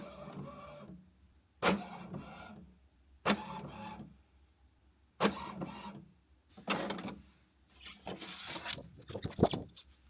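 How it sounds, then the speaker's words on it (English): A home printer runs through its maintenance cycle, with repeated bursts of whirring and clattering mechanism separated by short pauses, close and fairly quiet with no talking. "Printer maintenance right now."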